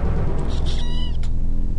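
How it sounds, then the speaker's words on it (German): A house cat meows loudly and close by, a drawn-out wavering call followed by a shorter cry, with no talking over it and steady background noise underneath. "Da ist doch meine Katze."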